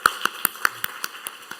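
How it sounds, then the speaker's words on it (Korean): A handful of people in a church congregation clap in a slow, even rhythm, about eight sharp separate claps ringing out close and clear over a quiet room. "한번 박수 쳐 주실래요?"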